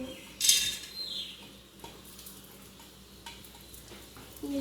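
A metal spoon clinks and scrapes against a cooking pot while ingredients are stirred together, with a bright clatter at the start and softer scraping strokes afterward, close and fairly quiet.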